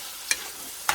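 Pad thai ingredients with rice noodles fry and brown in a pan, a steady close sizzle broken by two quick stirring scrapes about half a second apart.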